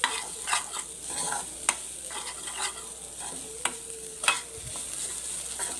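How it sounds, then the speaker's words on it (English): Grated coconut fries gently in ghee over a low flame, giving a soft continuous sizzle punctuated by sharp scrapes and clicks of stirring, close and moderately loud with no talking. "if we fry the grated coconut in ghee"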